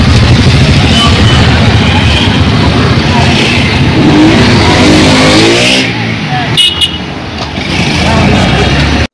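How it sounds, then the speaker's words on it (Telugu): Traffic from a bike and car rally run by local showroom dealers on an awareness drive in Rampachodavaram, with loud, steady engine noise and revving passing close by, and voices mixed into the din. "స్థానిక షోరూం డీలర్లు సంయుక్తంగా బైక్ అండ్ కార్ ర్యాలీ నిర్వహించారు."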